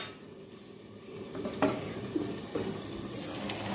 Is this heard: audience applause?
no